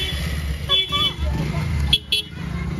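A car pulls up close by with a short horn toot partway through, its engine rumbling steadily under people talking over it.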